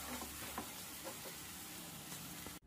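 Tindora (ivy gourd) chutney is stirred as it fries in a pan, giving a soft, steady sizzle with faint scraping strokes. It cuts off abruptly at the end, and there is no talking.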